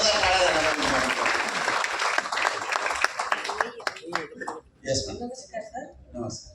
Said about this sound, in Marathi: जोरदार टाळ्या झाल्या